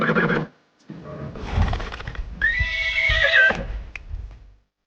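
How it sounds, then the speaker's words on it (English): A horse neighs loudly and close by in a long, shaky whinny with a snort between bursts, alone without talk. "This is Horse."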